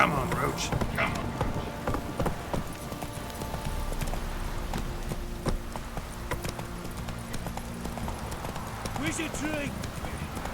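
Roach, the horse in The Witcher 3, gallops along with quick, rhythmic hoofbeats that continue throughout, while a voice speaks over the hoof sounds.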